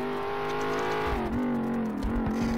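Race car engine in the Race Pro racing game, a steady loud drone with a sustained pitch that dips briefly and recovers, running continuously throughout with no talk.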